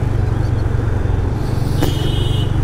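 A Hero Ignitor Techno 125 motorcycle ridden on a regular road, its engine pulled hard in a low gear with a steady droning throb, close and fairly loud, and a brief higher whine near the end.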